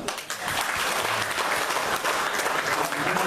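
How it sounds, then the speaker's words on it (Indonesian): Audience applause at a school gathering, a dense, steady wash of many hands clapping at close range that holds for the whole stretch without any talk. "kita kasih aplaus kepada Pak Agus"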